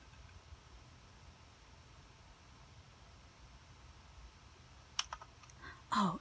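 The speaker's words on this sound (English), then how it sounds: "I thought I heard a clicking noise." In The Stanley Parable video game, a PowerPoint presentation gives off a few sharp clicks near the end, following a long stretch of quiet, hissy room tone.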